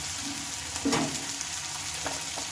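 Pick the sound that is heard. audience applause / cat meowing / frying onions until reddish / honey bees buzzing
frying onions until reddish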